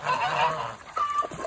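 Ducks honking and calling near a pond while being fed aquatic plants, a few short nasal quacks close by in a brief burst.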